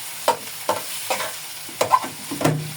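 Onions fry in white oil in a pan, with several sharp stirring scrapes over a soft sizzle, each scrape close and distinct.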